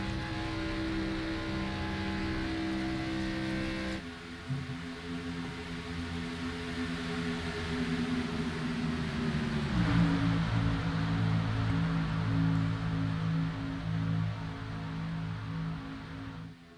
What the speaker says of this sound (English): You can hear him feathering that throttle